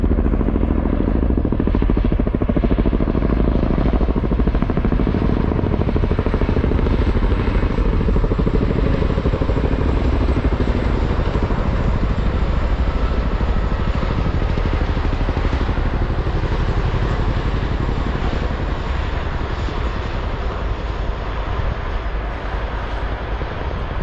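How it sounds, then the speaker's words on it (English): Chinook helicopters fly low over Bigbury, a heavy, continuous rotor and engine rumble that stays loud and near throughout with wind buffeting. "Look at these helicopters flying in straight over Bigbury."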